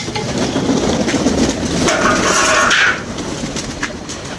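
Pet pigeons coo and flutter nearby in a loft, soft throaty calls mixed with scuffling and a brief brighter rustle midway.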